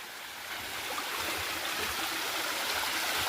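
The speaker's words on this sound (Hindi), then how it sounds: "जो पानी आ रहा है वो रास्ते की ओर आ रहा है।" Stream water flows down toward a path in a farming village, giving a steady rushing gurgle that swells slightly and stays continuous and fairly close, with no voices.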